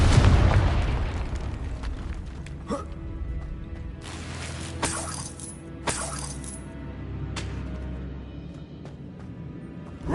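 A Confringo blasting spell in Hogwarts Legacy bursts with a deep, booming explosion that decays slowly, followed by a few smaller pops and crackles fading through the rest of the scene.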